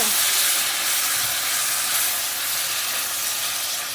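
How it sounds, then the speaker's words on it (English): Collard greens for a keto steak meal sizzle loudly in a hot pan, a dense, continuous hiss of frying and steam with a brief stir near the start, close and steady without talk. "All right, so just a quick stir"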